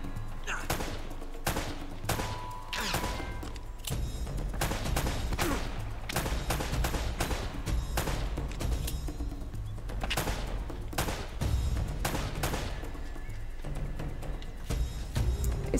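Gunfire in Uncharted: Drake's Fortune, a PlayStation action game: dense, rapid volleys of shots crack repeatedly for the whole stretch over game music and effects, loud and close, with brief player talk here and there.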